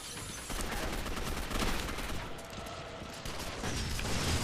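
Rapid, sustained gunfire in the video game Gotham City Impostors, a dense continuous volley of shots at moderate loudness with brief dips and no talk over it.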